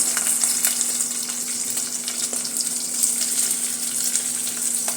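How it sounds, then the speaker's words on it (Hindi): Chopped onions sauté lightly in a pan, a continuous soft sizzle near at hand, with no talking, over an even background hum. "और इसको हल्का सा सौटे करेंगे।"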